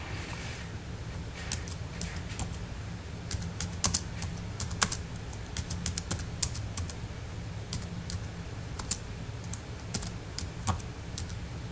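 Close typing on a computer keyboard in quick irregular bursts of light clicks, with a low steady background hum and no voices.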